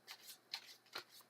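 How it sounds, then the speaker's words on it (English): A deck of tarot cards gets a quick shuffle, soft riffling bursts in a few brief close flurries, quiet and isolated with no voice over it. "And we'll give these a shuffle real quick."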